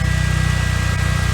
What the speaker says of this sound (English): So a couple revs from right here.